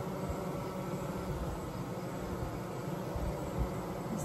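Honeybees fanning at the entrance of a 20-frame Layens horizontal hive, a steady dense buzzing hum that stays even and close throughout, with no voices.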